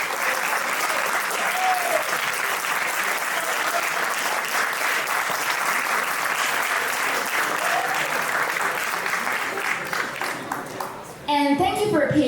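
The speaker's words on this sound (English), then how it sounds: "give another round of applause to all teams" Sustained applause from a seated audience at a business case presentation event, steady dense clapping for about eleven seconds before it cuts off abruptly.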